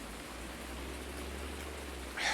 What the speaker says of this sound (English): And hope the rain is gonna stop soon.